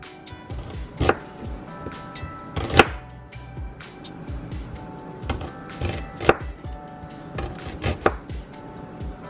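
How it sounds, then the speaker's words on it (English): A knife chops through an onion on a cutting board in irregular sharp thunks, some pauses between strokes, close and clear with no voices. "So we just cutting our onion."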